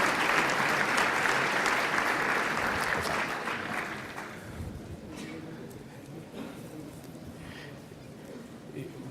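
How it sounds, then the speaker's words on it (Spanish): An audience at an APEC SME summit applauds to welcome a company's executive president, with loud, dense clapping that slowly thins and fades toward the end while faint voices murmur underneath. "un fuerte aplauso de bienvenida al señor José Sam Yuen, presidente ejecutivo de SAM-Corp."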